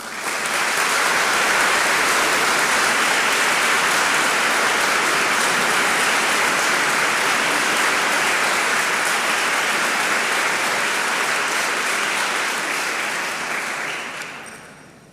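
Sustained, loud applause from a university community audience honoring faculties at a formal academic ceremony, dense and even throughout before fading out at the very end.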